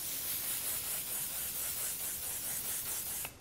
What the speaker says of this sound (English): So I'm gonna spray all over